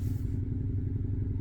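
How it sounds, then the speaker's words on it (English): A motorcycle rumbles close behind a 2022 Tesla Model Y, heard from inside the car as a steady low engine drone for a brief moment. "there's a motorcycle right behind me"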